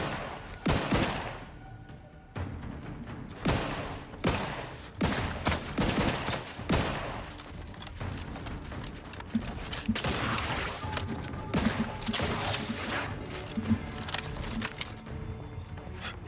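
Gunfire in the video game Outer Worlds 2: dense, loud bursts of rapid shots and heavy blasts fire in uneven volleys throughout, with combat effects between them.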